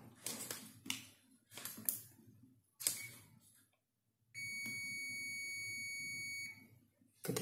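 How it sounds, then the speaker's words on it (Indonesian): A steady, high multimeter buzzer beep drones for about two seconds after several sharp clicks and taps while testing a rectifier diode, fairly faint and close. "Ketika bunyi buzzer, ialah sedang mengosongkan nilai muatan kapasitor"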